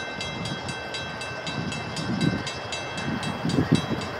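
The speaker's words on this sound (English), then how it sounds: "Train approaching. Please remain behind yellow line." An Amtrak train approaches a station at Mystic, Connecticut, a steady loud rumble with rhythmic wheel clatter and rising low thumps as the cars roll closer.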